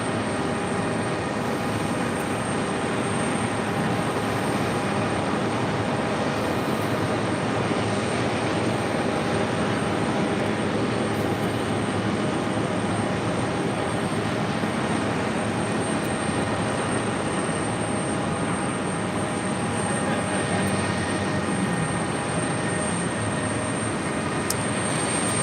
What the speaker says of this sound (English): So that Air India flight 116 heading to Mumbai, the 777-200LR.